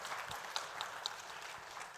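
Audience applause at a talk on sports and data: a steady, moderately loud wash of clapping from a crowd, lasting the full two seconds with a few sharper individual claps standing out.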